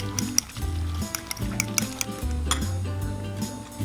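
Seasoned eggs are whisked in a bowl, a utensil clinking and tapping against the sides in quick irregular strokes, quiet and close, over steady background music.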